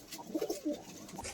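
Madras and Giribaz pigeons coo in a few soft, rounded bursts close by, a short run of low throaty calls over quiet background hiss.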